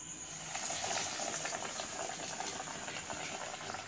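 Fish cutlets deep frying in oil, a steady close bubbling and hissing sizzle that holds evenly throughout.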